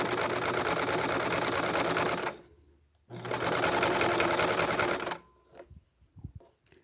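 A sewing machine stitches rope into a bowl in two fast, steady bursts, each about two to three seconds long, with a short pause between and soft handling noises after.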